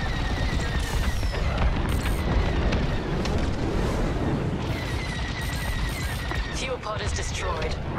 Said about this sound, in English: Fuel pod is destroyed.